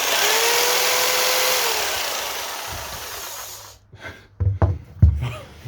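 A Fieldmann FDP 200712-E 710W jigsaw running in oscillating mode makes a loud, steady buzzing roar for several seconds, then cuts out into a few short bursts and knocks.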